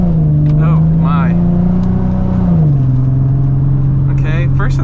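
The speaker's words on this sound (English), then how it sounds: "Decent amount of exhaust drone." A Nissan 370Z Nismo droning through its exhaust while driving: a loud, steady low hum that dips slightly in pitch midway, with a person talking over it.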